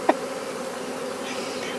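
A honey bee swarm hums outdoors in a steady, dense buzz that holds evenly throughout, with one brief louder tick near the start and no talking.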